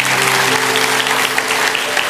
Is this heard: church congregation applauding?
yes